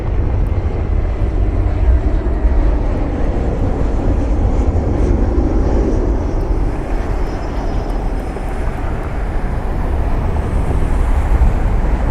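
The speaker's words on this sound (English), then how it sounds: "Delta 2577 inbound from Atlanta. Another Airbus A321neo." A Delta Airbus A321neo arrives inbound from Atlanta, heard as a steady, broad jet roar at moderate distance that holds evenly and fairly loud throughout, with no talking.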